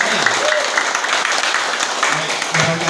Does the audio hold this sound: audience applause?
yes